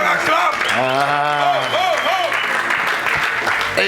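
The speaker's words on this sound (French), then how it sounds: "Quelqu'un acclame." Church congregation applauding and cheering after a sermon line, a dense wash of clapping with a preacher's voice calling out over it in rising, sung tones.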